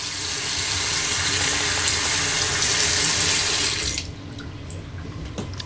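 A clogged bathroom sink drains after plunging: a steady, close rush of running water for about four seconds, then it cuts off to a quiet background with a few faint drips.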